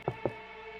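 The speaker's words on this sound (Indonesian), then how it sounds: "Diketuklah pintu itu." Two quick, close knocks on a hotel room door, evenly spaced and distinct over a steady background hum.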